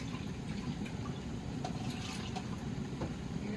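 Bean water poured from a pot of cooked red beans into a cooking pot, a steady close-up liquid rush and trickle running continuously with no voices over it.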